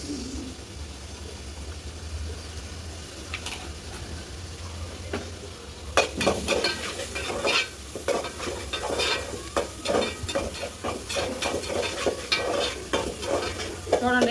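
Ginger paste and tomato paste frying with turmeric for a Nellore-style fish curry, a low steady sizzle that turns louder and busier about halfway through as a spoon stirs and scrapes the pan in quick repeated strokes.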